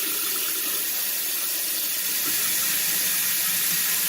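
Water runs steadily from a kitchen tap in a mobile home while warming up, a close, constant hissing splash into the sink with no pauses or talk.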